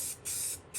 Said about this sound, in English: I've already started to spray the primer down onto the track